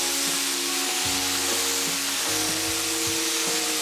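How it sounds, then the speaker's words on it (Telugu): Mint leaves sizzling and frying in a hot pan while being stirred for chutney, a loud continuous crackle with stirring scrapes underneath. "ఇలాగా పుదీనా దగ్గరికి వచ్చేంత వరకు కలుపుతూ ఉండాలి."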